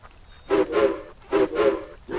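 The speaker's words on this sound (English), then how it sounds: "Hiro blew his whistle. It sounded like a duck quacking." A train whistle blows in repeated short, breathy toots with a hissing, quacking tone, in two pairs spaced evenly.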